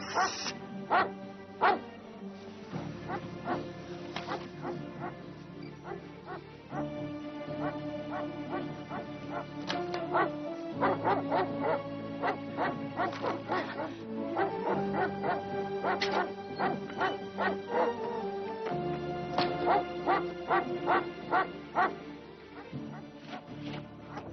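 A dog barks and whimpers persistently indoors, a long run of repeated yips and barks at steady rhythm, fairly close, with no talk over it.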